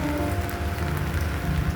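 Steady, dense rain patter with a constant hiss, heavy and close, continuing without pause throughout.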